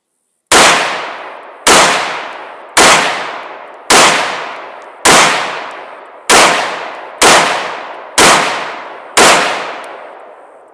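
Nine sharp gunshots from a CZ BREN 805 pistol fitted with a KAK brace, fired at a steady pace about one per second, each loud crack followed by a decaying outdoor echo, with no talk.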